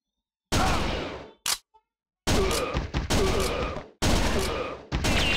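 Gunfire rings out in the arcade shooter Virtua Cop 2, coming as several loud, dense bursts of rapid shots separated by sharp silences, with one short lone blast between the longer volleys.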